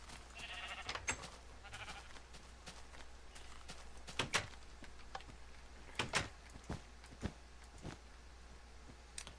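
Sheep in Minecraft bleat in short bursts while hoof-like clops and small game noises pop up at intervals over a quiet background hum.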